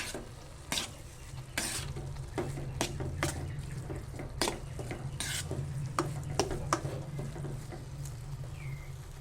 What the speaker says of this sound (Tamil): இப்போ நம்ம நல்லா கிளறி விட்டுக்கிடலாம்